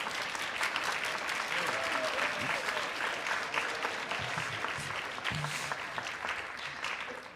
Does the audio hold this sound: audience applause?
yes